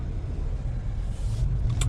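A 2019 Cadillac XT5 driving slowly through a parking lot at night, a low steady engine and road rumble heard from inside the cabin, with a brief brighter noise at the end.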